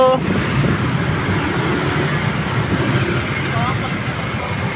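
Steady road traffic with cars passing on a busy street, a continuous broadband rumble throughout, with what may be a brief horn toot midway.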